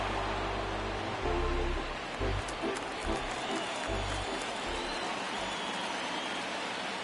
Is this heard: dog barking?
no